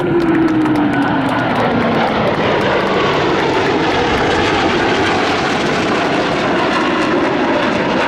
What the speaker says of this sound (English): please watch as the Blue Angels perform the Delta pitch-up brake